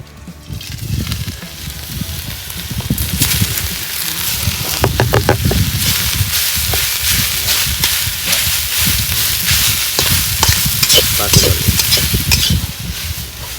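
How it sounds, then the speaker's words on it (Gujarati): Grated bottle gourd fries in hot ghee for sweet laddoos, a loud close sizzle with scraping, stirring strokes that continue for the whole stretch. "શેણેલી દૂધીને આપણે ઘડીવાર માટે ફ્રાય કરીશું"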